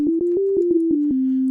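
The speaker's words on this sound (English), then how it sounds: "we have one oscillator doing the sine wave" Pure sine tone from a single SynthMaster 3 synthesizer oscillator, a steady sustained note stepping slightly in pitch, retriggered in a series of short attacks, clean and alone.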